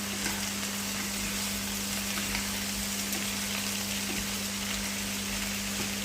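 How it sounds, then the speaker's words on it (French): Fish and vegetables cooking in a pan give a steady, dense sizzle throughout, with faint stirring underneath and no talking. "Et là, je vais tout mélanger."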